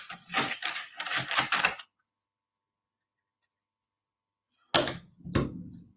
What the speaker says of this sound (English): let me just shuffle for Virgo.